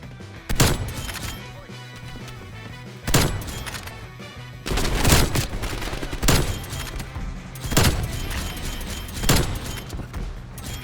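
First-person shooter video game gunfire, sniping: loud bursts of shots and explosive booms recurring every second or two, with dense game sound in between and no voice.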